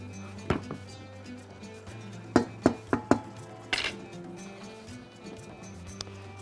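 Grilled sausage being turned and stirred in a pan, giving a few sharp clacks and scrapes of a utensil against the metal, loose and spaced out at first, then a quick cluster of knocks under a steady low hum.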